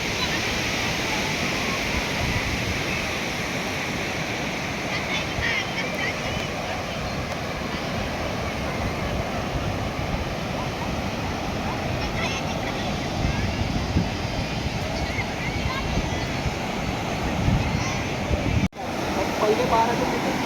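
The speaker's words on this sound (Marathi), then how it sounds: "बघा कशा लाटा तुम्हाला येताना दिसतील" Constant rushing roar of sea waves breaking on the shore at Devgad beach, broad and steady with wind noise on the microphone, and a brief thump near the end.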